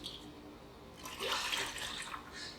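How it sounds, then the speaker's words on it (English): Rinse water from a blender poured into a clean pot, a splashing, gurgling pour swelling up midway and running on steadily to the end, fairly close with no talking. "I'm going to rinse off the blender and pour the water inside"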